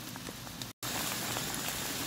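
Steady rain falling at six in the morning on a riverbank fishing spot in Paraná, a dense close patter with a brief dropout midway.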